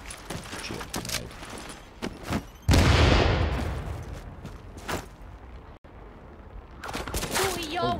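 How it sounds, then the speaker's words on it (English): A grenade detonates in Tom Clancy's The Division, a sudden loud blast near the middle with a long rumbling decay, surrounded by scattered gunshots and people talking. "This grenade'll mess him up. Shit, grenade."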